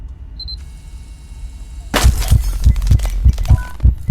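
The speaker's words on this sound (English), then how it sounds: "If I hear a heartbeat and this game has monsters, I'm gonna assume there's a monster" A heartbeat effect pulses in an Exit 8–style horror game: after a quiet stretch with faint tones, a deep, regular thumping starts, about two beats per second, loud and close, with a ringing noise layered over it.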